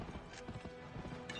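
A horse gallops in the Western video game Gun, a faint rapid clip-clop of hooves repeating in quick rhythm over a low rumbling game soundscape.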